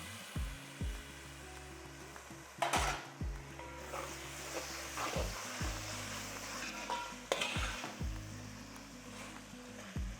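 Four tomatoes sauté in oil in a pan for mutton biryani, a low continuous sizzle with a steady mechanical hum underneath and a few clattering knocks of a spatula scattered throughout.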